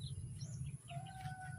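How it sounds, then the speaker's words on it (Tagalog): Chickens and wild birds calling outdoors in a rural province, with faint chirps and short calls scattered over a steady low hum, no voices. "Ibon lang ang marinig nyo yan dito at saka mga manok."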